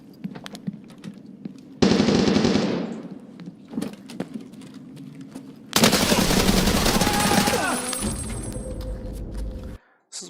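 Escape From Tarkov gunfire comes in two loud bursts of rapid automatic shots, separated by quieter footsteps and clicks.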